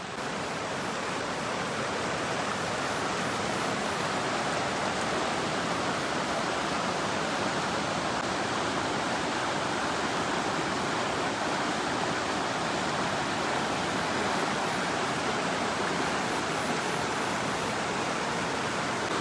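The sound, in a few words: swollen river flowing after 24 hours of monsoon rain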